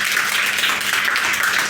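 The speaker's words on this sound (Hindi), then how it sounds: "लगाओ हाथ, तालियां बजाओ सभी," Applause from an audience at a school prize ceremony in Rajasthan, a steady dense wash of clapping that stays loud and unbroken throughout, heard alone without speech.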